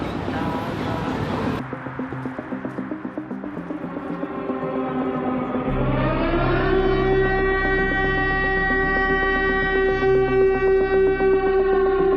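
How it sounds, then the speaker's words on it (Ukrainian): An air raid siren sounds during a nationwide alert across Ukraine, rising after a few seconds of muffled noise into a loud, steady wailing tone that holds to the end. "По всій території України оголошують повітряну тривогу."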